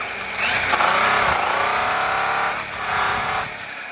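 An angle grinder spinning a buffing pad loaded with red compound, polishing a curb-rashed polished American Force wheel, whines steadily and loudly throughout, dipping briefly and rising again as the pad presses on the rim.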